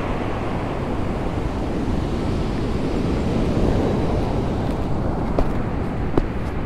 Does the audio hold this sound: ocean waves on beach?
yes